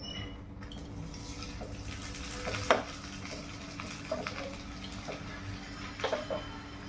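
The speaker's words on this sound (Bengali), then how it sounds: "উল্টো পাল্টে সেঁকে নিতে হবে ভালো করে 2 মিনিট।" Oats chilla frying in a pan gives a steady low sizzle with a few soft scraping or stirring clicks, close and moderate in level, with no talk.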